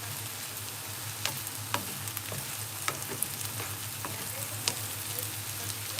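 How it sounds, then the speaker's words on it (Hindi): Soyabean chunks fry in a pan with a constant, close sizzle while a spoon stirs them, scraping and tapping the pan now and then; no one speaks. "में चलाते रहें ताकि ये अच्छी तरह से सॉफ्ट हो जाए"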